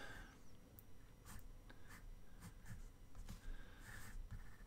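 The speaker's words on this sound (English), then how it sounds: "Let's draw a little eye in there." A pen or pencil drawing a cartoon bird's eye on paper, making quiet scratchy strokes and small dabs in an irregular rhythm, close and soft over faint breathing, with no talking.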